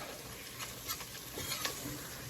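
A spoon stirs a thickening chili relleno sauce made with flour, giving soft, faint scraping and light bubbling pats in an even, quiet rhythm.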